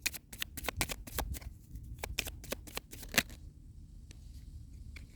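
Tarot cards are riffled and shuffled in quick crisp bursts, close and quiet, then a few softer card flicks follow after a pause.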